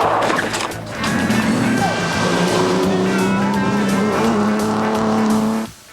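Rally cars race flat out on a street stage of Targa Tasmania, the Georgetown prologue. Engine notes climb and fall loudly while a commentator speaks over them, and the sound cuts off abruptly at the end.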